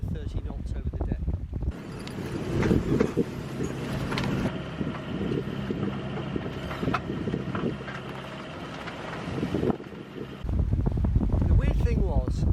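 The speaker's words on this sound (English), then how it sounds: "the wind started to strengthen. Before I could do anything about it, I had 25 to 30 knots over the deck" Strong wind of 25 to 30 knots blowing across a solo sailboat's deck at sea between Spain and Sardinia, a loud steady roar with buffeting gusts, rigging and hull noise, and muffled talk at the start and end.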